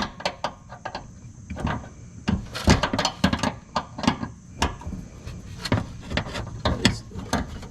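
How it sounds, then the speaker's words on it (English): Ratcheting wrench work bolting up gas tank straps on a 1994 Chevrolet K1500 Blazer, a steady run of close, sharp mechanical clicks and clanks in uneven bursts, with no talking. "Hopefully we can get this thing bolted up."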